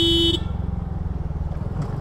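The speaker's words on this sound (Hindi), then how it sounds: "मैं मार दूँ उसके पीछे हॉर्न।" A single short car horn blast up close, cut off quickly, followed by a rumbling engine idling.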